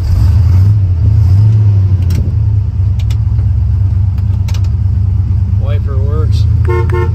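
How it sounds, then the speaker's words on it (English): A 1953 Pontiac Woody wagon with a 454 engine idles with a loud, steady rumble, then its horn gives a few short toots near the end while someone speaks nearby. "Horn works."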